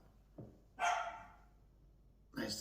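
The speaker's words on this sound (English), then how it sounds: "there's the dog" A dog in a home kitchen gives a couple of short, sharp barks, one faint and brief, then a louder bark, with another starting at the end; no talk is heard.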